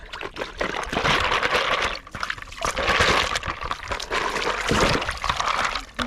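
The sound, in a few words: washing green mussels in water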